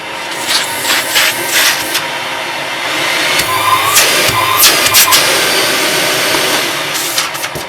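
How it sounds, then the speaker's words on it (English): An Electrolux Z5010 Excellio vacuum cleaner runs steadily with a noisy motor hum, its pitch and loudness shifting as it is pushed around, with occasional bumps and rattles from the nozzle. "As I say, it's quite noisy and quite smelly. What's the suction like?"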